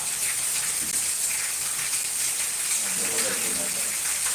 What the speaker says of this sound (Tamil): மழை அடிச்சுக்கிட்டு இருக்கு